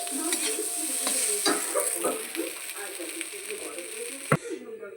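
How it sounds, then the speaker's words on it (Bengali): Pasta with egg, onion and tomato ketchup fries in a pan with a soft sizzle, broken by scraping stirs and a sharp clatter near the end, fairly quiet and close. "দিয়ে আবার কিছুটা আমি ভাজা ভাজা করে নেব"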